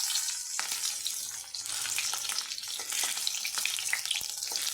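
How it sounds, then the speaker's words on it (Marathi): Quiet, steady sizzling of green chillies frying in oil on low heat, with soft crackles and pops throughout and no voices. "ही मिरची पूर्ण तळण्यासाठी सुद्धा चार ते पाच मिनटाचा अवधी लागते"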